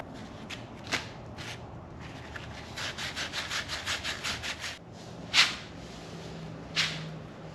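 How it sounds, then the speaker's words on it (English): A scoring pad scuffs front suspension parts for a 1979 Malibu, a series of short rhythmic abrasive rubbing strokes with a few sharper scrapes, fairly quiet and close, with no talking. "Knock out the rest of these with this scoring pad, and I should be decent."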